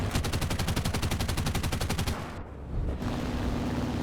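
Rapid machine gun fire from the forward offensive gun of an SM.79 bomber in War Thunder, a steady rattling burst lasting about two seconds, then stopping and giving way to engine drone.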